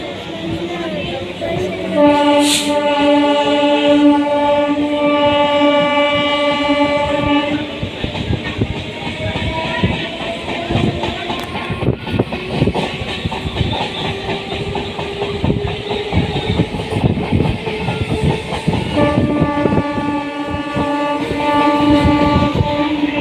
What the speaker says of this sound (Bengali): আমাদের ট্রেনটাও এই দেখো চলে এসেছে